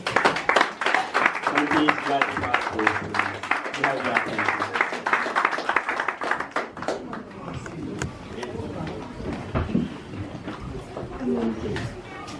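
An audience at a Congolese mothers' celebration applauds with dense, rapid clapping that starts loud and gradually thins out, while voices talk over the later part.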